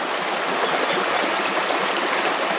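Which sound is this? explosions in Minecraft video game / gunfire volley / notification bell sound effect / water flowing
water flowing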